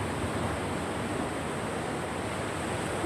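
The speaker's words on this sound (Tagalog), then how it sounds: "Yung dagat na ano, malaki yung alon" Steady ocean surf, a continuous broad wash of crashing waves, fairly loud with no voices.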